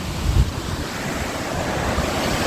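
Drake Falls, a 27-foot waterfall dropping into a pool in a canyon, gives a steady, loud, broadband rush of falling water with a wind-like roar and no speech.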